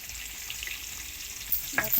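Rohu fish pieces sizzle steadily as they fry in hot oil in a pan, a close, continuous crackle with a few sharper spits and pops near the end.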